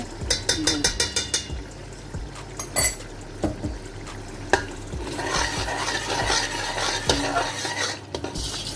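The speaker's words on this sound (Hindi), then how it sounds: "और इसको हम तकरीबन 2 मिनट अच्छे से भुनेंगे।" Ginger garlic paste is fried for mutton pulao, with a spoon clattering and stirring against the pot at first and then a loud, steady sizzle, close up and without speech.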